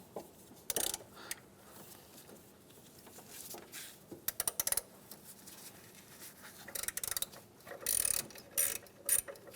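A hand ratchet clicks in short, quiet bursts, close by, while loosening the last 12 mm bolt on the serpentine belt tensioner of a 2003–2011 Honda Element in a garage.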